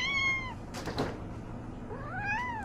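A pet cat meows in a home with a toddler, two clear rising-and-falling meows, one at the start and another near the end, with faint household noise in between.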